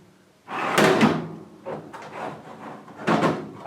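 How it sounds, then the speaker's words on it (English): A sticky metal drawer on a Kennedy 3611 machinist tool box or 5150 mid chest slides open and shut with scraping, rumbling bursts, close and fairly loud, with a pause before a final shove. "I'd say these are the two stickiest drawers"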